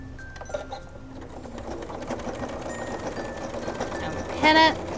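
A sewing machine runs steadily, stitching binding onto a quilt with a close, continuous rapid whir, and a brief louder beep or chime sounds near the end.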